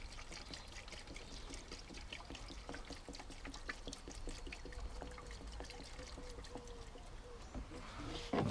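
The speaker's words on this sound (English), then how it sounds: "Put a bit more fuel." Fuel trickles and gurgles from a can into a Briggs & Stratton engine on a Viking lawnmower, a steady close pour with faint knocks and a brief louder rustle at the end.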